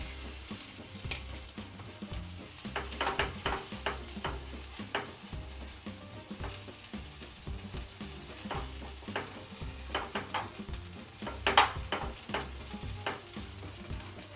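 Potato cheese paratha frying in ghee on a pan, a continuous sizzle with scattered pops and crackles and occasional scraping stirs, close and fairly quiet throughout.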